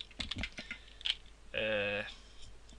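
Typing on a computer keyboard during a Unity 3D coding session, a handful of quick, close clicks in a short burst with a brief tone partway through.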